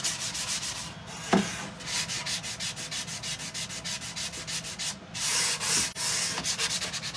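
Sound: hand sanding an unfinished wooden tray

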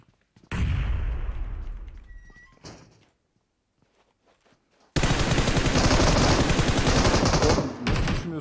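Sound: grenade and gunfire in a video game

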